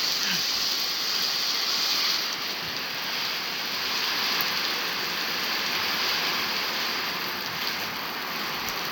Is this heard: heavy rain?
yes